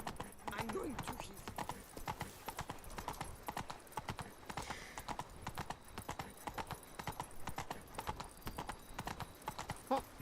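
Roach the horse in The Witcher 3 video game trots with a quick, steady clip-clop of hooves that runs throughout, mid-distance and fairly quiet, with game sounds around it.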